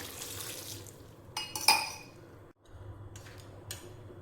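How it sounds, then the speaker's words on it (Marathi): A brief clatter of metal cookware, then a glass of water is poured into a pressure cooker with tomatoes, quiet against a low background hum. "एक ग्लास पाणी टाकते"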